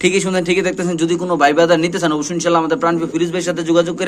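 Pricey pigeons kept for sale coo softly in the background, largely masked by a man's continuous, loud sales talk close to the microphone.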